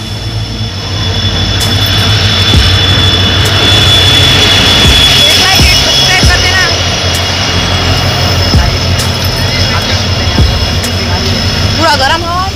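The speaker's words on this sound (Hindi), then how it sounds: "देख सकते हो इंजन आ रहा है अभी" A train locomotive rolls into Basmath railway station with a loud, steady engine roar and rumble throughout, under people talking on the busy platform.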